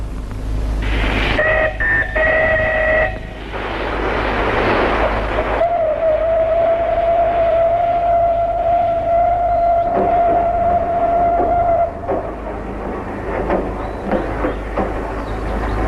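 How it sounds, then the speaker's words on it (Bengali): A departing train sounds a steady horn and long whistle tones over a continuous low rumble and clatter from the railway, loud and close, with other sounds briefly mixed in. "তাড়াতাড়ি এসো, ট্রেন ছেড়ে দেবে"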